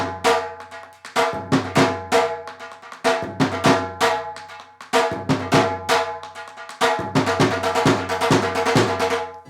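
Dhol drum playing the first sequence of a Bhangra set: rapid, sharp strokes in repeating rhythmic phrases, loud and close, with deep booming bass hits under crisp treble slaps and no talking.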